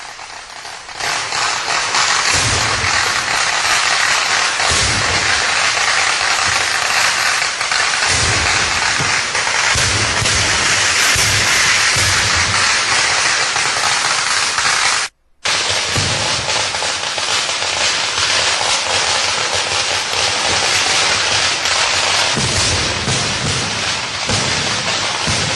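A temple fireworks display at night sets off a dense, continuous barrage of loud explosions that roars on almost without pause. The only break is one brief gap midway.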